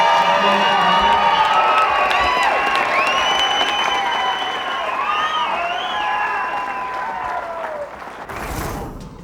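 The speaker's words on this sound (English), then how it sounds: "Let's have a wonderful round of applause." A crowd at a 2006 pool final match in Albuquerque applauds and cheers the champion, loud clapping mixed with shouts and whoops that slowly eases, ending in a short burst of noise.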